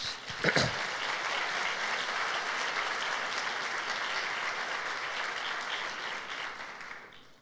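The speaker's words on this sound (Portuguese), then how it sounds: "Então dá um aplauso a Jesus." A church congregation at a Sunday service applauds, a broad, somewhat distant wash of clapping after a brief sharp knock near the start, holding steady before fading away at the close.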